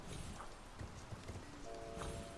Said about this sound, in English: this is a horse.